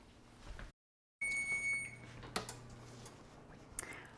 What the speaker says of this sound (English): Our timer has gone off